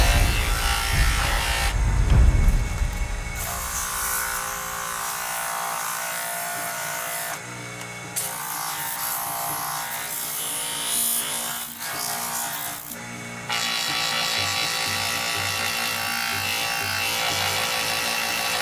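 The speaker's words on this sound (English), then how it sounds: "So I'm going to hit the edge now with a 2000 grit." A clock edge is worked on with fine 2000-grit sandpaper under a steady, buzzing power-sander drone that shifts in tone across several passes, close and continuous.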